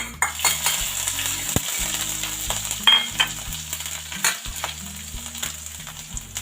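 Chopped green chillies and ginger fry in a pan for a gobhi sabzi, giving a steady close sizzle with crackling bursts and a few light metallic clinks.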